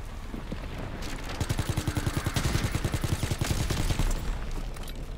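Rapid bursts of automatic gunfire in the WW2 Zombies game, a steady stream of sharp, close shots from about 1.3 to 4 seconds over a busy background of game noise.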